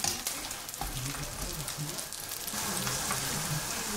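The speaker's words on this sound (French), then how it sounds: "juste les passer au beurre, hein, j'ai fait fondre un peu de beurre" Mushrooms frying in melted butter with a little oil in a pan, a steady soft sizzle and crackle running throughout, moderately close and even in level, with no talk over it.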